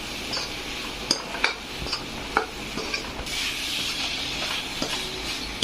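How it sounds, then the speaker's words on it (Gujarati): A utensil stirs masala and tomatoes frying in oil in a pan for restaurant-style dal fry, with repeated close scraping clicks over a steady sizzle that swells louder toward the end. "આપણે આને મિક્સ કરી લઈશું। મસાલાને અને ટમેટાને સરસ રીતે ચડવા દેશું તેલમાં।"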